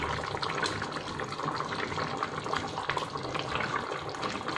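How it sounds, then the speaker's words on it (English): Leafy vegetable puree is poured into a mutton curry, a soft continuous liquid gush and splatter, fairly quiet and steady over a few seconds. "Now last we will add our puree."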